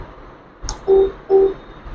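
Two short, clear electronic beeps from a Dynamo Lima electric scooter indicator, evenly spaced, close by, after a faint click.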